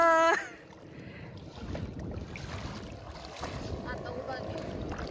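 A boat moving on the water off the coast at Alibag beach gives a steady low rumbling wash with wind noise, after a brief tonal sound at the start.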